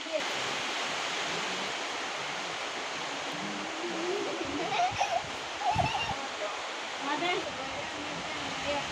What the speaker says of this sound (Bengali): বৃষ্টি বাড়ছে